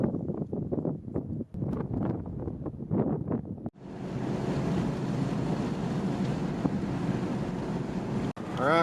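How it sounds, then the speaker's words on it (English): Strong wind buffets the microphone on a mountain valley hike in Colorado's Collegiate Peak Wilderness, a loud continuous roar after a few seconds of broken, gusty rumbling. "it's pretty windy"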